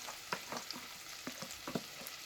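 Onion, garlic and celery frying on low heat in a pan for a basic tomato sauce. The sizzle is soft and steady with small scattered crackles and pops, faint and close, with no talking.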